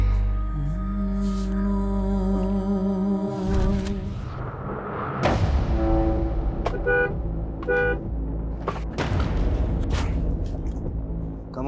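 A car horn blares in long, sustained blasts from a car stopped in the middle of a road, loud and close for several seconds before giving way to sharp dramatic hits and music.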